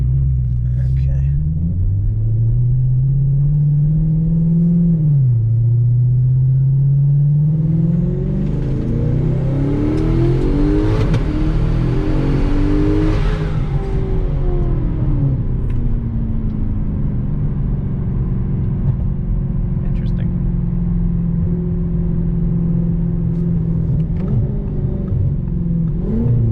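A big single-turbo S6 car accelerates hard, its deep engine rumble climbing in pitch, then surging into a loud rushing whoosh of turbo boost before easing to a steady drone, heard from inside the car.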